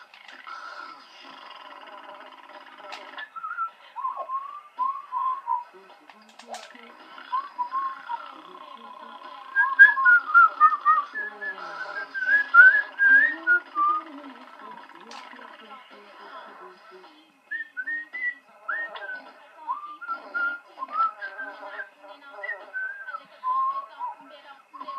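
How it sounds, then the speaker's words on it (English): A Sim character in The Sims GameCube game whistles a light, meandering tune in short bursts, soft and steady against a quiet background. "Her whistle track is still going."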